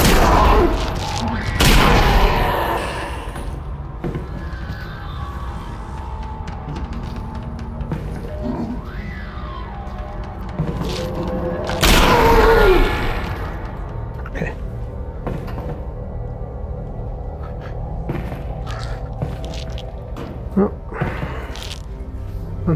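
Pistol gunshots in the VR video game Half-Life: Alyx, a few loud, sharp bangs spread out with long pauses between them, plus lighter clicks and handling noises in a quiet room.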